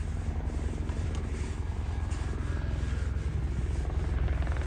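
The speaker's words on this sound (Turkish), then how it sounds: "Bak geliyor helikopter." A small helicopter flies overhead in a rural village, its rotor giving a steady, fairly loud pulsing chop that holds throughout without talk.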